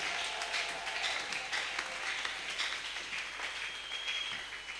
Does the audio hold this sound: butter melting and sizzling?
no